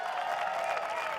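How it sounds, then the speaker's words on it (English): A brief burst of dense clapping from a large audience at a seminar event, steady and fairly even throughout. "Big round of applause for all those guys."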